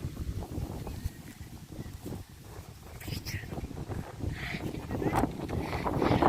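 Wind buffeting the microphone in low rumbling gusts at Ross Castle in Killarney, Ireland, building toward the end, with faint background sounds mixed in.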